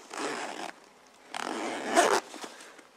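Close-up zipping on an ArcEnCiel hiking daypack: a short rasping pull, a pause, then a longer pull ending in a sharper zip, with faint handling afterward and no speech.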